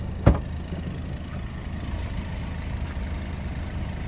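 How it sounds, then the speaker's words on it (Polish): Kia Sportage XL with a 2.0 petrol engine from 2012, started keyless and idling with a quiet, steady hum, one brief thump near the start. "tak jak widzicie nie ma tych kluczyków włożonych, samochód jest odpalony"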